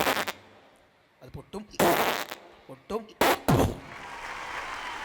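A mimicry artist's voice imitates a balloon being rubbed and popped, with squeaky rubbing bursts and sharp popping blasts in uneven clusters, close and loud, between brief stretches of speech.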